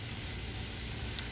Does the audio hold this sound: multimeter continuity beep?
no